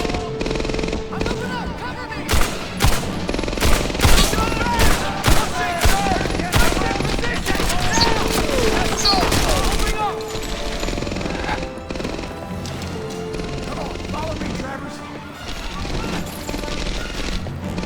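Machine gun fire from a German MG gunner position in Medal of Honor Airborne rattles in dense rapid bursts, mixed with single loud gunshots and battle crashes, and the shooting continues under players' talk.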